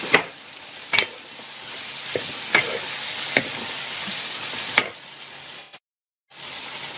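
Cooked beef kebabs stirred into hot cooking masala, giving a continuous hissing sizzle broken by several sharp spoon knocks against the pot, then a brief pause of silence before the sizzle resumes.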